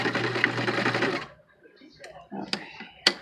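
Sewing machine back-stitching along the tie of a fabric face mask: a loud steady run of stitching that stops, followed by a few sharp mechanical clicks and short bursts.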